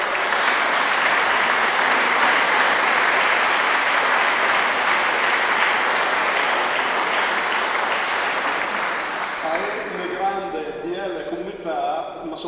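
A community audience applauds at a local gathering, loud sustained clapping that holds steady for several seconds before thinning out and fading as a voice begins speaking.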